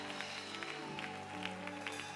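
A church congregation applauds at a Sunday Mass prayer service, a steady wash of clapping with a few sharper claps standing out, held under sustained organ or keyboard tones.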